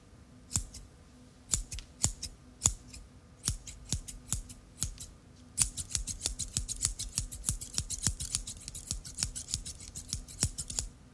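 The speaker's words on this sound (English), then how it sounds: "Scissors." Crisp scissor snips, spaced out at first, then coming quickly in a rapid run of close, clicking cuts.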